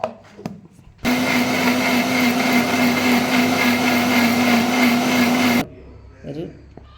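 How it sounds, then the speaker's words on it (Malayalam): A kitchen blender grinds coconut and beetroot into chutney, a loud steady whirring drone running about four and a half seconds before cutting off, with brief speech before and after. "ഇത് നന്നാക്കി അരച്ചെടുക്കാം കേട്ടോ"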